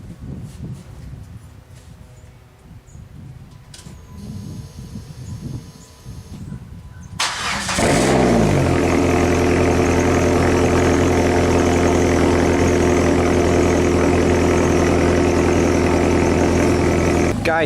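Engine of a PT Cruiser GT cranks and catches after a timing belt and water pump job, then settles into a loud, steady idle; quiet shuffling and handling noises come before the start.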